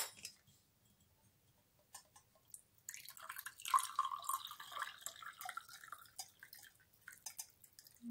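An herbal henna hair spray liquid is strained into a glass, giving a faint, close trickle and scattered drips that start after a few quiet seconds and continue softly.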